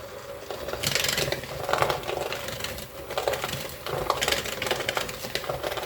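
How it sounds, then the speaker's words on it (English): A handheld electric mixer creams butter and sugar for iced oatmeal cookies, a steady whirring drone with gritty scraping pulses as the beaters churn the mixture in a bowl, close and continuous. "I go grab my hand mixer. Okay, now what you want to do is you want to cream these together."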